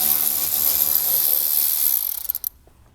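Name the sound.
removing two 8mm bolts from a Bronco metal panel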